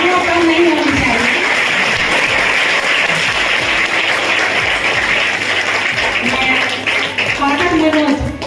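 Sustained applause from a crowd at an International Women's Day gathering on a cathedral campus in Purnia, dense steady clapping filling the whole stretch, with voices mixed in.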